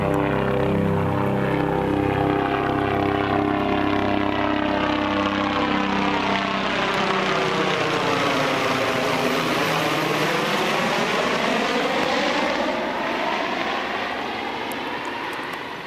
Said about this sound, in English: Well, Mr. Helicopter's coming back.